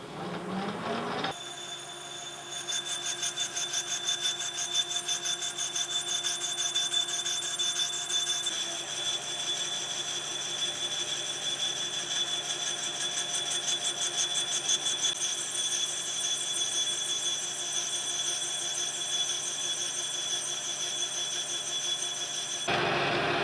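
A lathe drives a 1-inch boring bar with a 1/4 inch tool, roughing a cut about 2 1/2 inches deep into a metal cement mixer part. A steady, loud, tonal cutting whine runs continuously and then stops abruptly.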